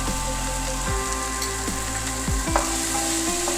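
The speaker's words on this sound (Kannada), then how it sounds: "ಹಾಕಿ ಚೆನ್ನಾಗಿ ಮಿಶ್ರ ಮಾಡೋಣ." A spoon stirs dal with turmeric and salt in a hot pan, giving a steady frying sizzle and a few soft scraping strokes of the utensil. Close and continuous, no voices.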